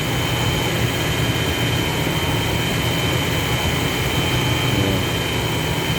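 Ford Falcon engine running at a steady idle after power steering air bleeding, a continuous low rumble with slight unevenness, loud and constant with no talk over it.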